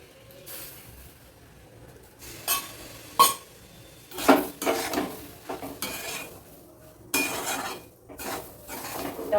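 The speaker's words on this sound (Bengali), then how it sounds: "এইভাবে একটু একটু করে জল দেবো আর মেশাবো" A utensil stirs a mixture in a small kadai while water is added bit by bit, giving repeated scraping and clinking strokes in irregular bursts, close and moderately loud, with quiet pauses between them.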